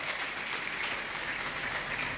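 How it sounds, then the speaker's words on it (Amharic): A church congregation claps in a dense, steady burst of applause that carries evenly from start to finish at moderate volume, with no voices standing out. "እስቲ አጨብጭቡ ለጌታ ክብር"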